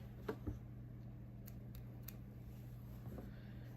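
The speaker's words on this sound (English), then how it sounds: "here is where you want to take your scissors" Scissors snip apart pieces of a beginner mini quilt sewn from charm-pack fabric squares, giving a few soft, quiet cuts scattered over a steady low hum, with no talking.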